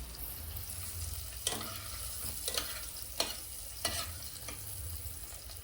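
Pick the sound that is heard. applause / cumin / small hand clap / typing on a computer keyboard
cumin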